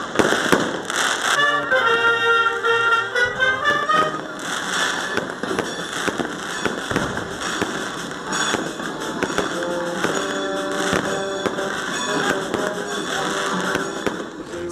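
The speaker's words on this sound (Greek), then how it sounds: "δεκάδες πυροτεχνήματα φώτισαν τον ουρανό" Fireworks burst and crackle continuously over a city square during a Christmas tree lighting, a dense barrage of pops and thumps with bright whistling and sparkling tones layered throughout.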